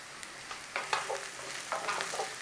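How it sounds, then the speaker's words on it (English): Onions frying in a pan for rajma rice, a soft steady sizzle with a few brief louder stirring scrapes and clatters, close and fairly quiet, no talk. "look, we're cooking onions."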